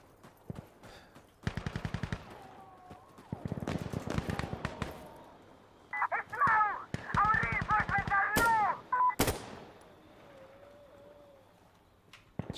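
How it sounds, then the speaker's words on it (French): Gunfire in the realistic military video game Insurgency: Sandstorm: several loud bursts of rapid automatic shots and single sharp cracks, some near and some farther off, with brief pauses between volleys. "Il y a des tirs, non?"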